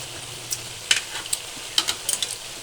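Corned beef frying in a pan with a steady bright sizzle, broken by several sharp scrapes and clinks as it gets stirred, close and fairly quiet with no talk.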